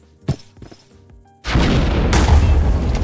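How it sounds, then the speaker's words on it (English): A wall blows up in the Minecraft video game: a brief thud, then a sudden loud, sustained rumbling blast that fills the rest of the moment. "Oh, the entire wall just, and the entire ground as well almost just went kaboom."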